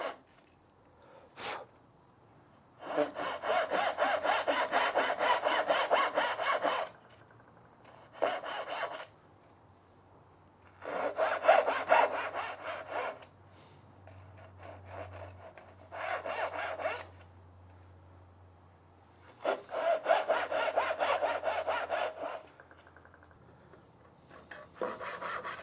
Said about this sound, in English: Just let the weight of the saw do the job, don't push it.